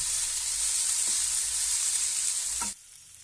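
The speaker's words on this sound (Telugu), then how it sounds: "పచ్చిమిర్చి కారం వేసిన తర్వాత మధ్య మధ్యలో కలుపుతూ ఒక 4 నిమిషాల పాటు లో ఫ్లేమ్లో కుక్ చేసుకోండి" Beans curry fries with green chili paste on a low flame, giving a steady, close sizzle with a faint stir or two. The sizzle quietens abruptly near the end.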